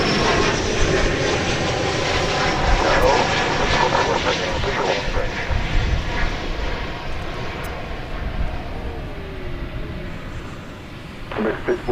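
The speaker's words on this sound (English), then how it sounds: "So the American Dreamliner, bound for Hawaii, is got clearance to take off." An American Airlines Boeing 787 Dreamliner bound for Hawaii takes off at DFW Airport, a loud, steady broadband jet roar that fills the whole stretch and fades slightly toward the end.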